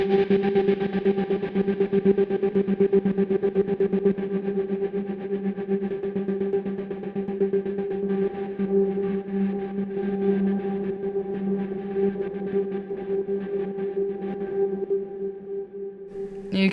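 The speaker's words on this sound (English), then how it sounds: "you can control the shape of the wave of the oscillator. So you have a square, so wave, sine, and then you have this kind of weird one in the end." Handcrafted Mallets synth oscillator set to an unusual, odd-shaped waveform, holding a dense, buzzing, distorted tone with echo effects that drones steadily and alone before cutting off at the end.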